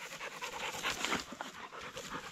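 Dogs panting on a rainy hillside walk: quick, rhythmic, breathy panting close by, steady and fairly faint, with no talk.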